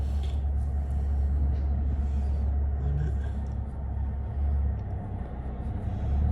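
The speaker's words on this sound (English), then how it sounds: "Yeah, there's a truck leaving." A Kenworth T800 construction truck pulls away in the background, a steady, heavy low rumble that swells and eases slightly but stays constant throughout, with no clear voices.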